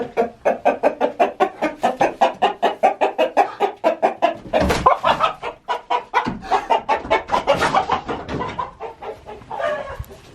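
Several chickens cluck steadily at close range in rapid rhythmic bursts, with a few louder squawks and rustling in the middle and no speech.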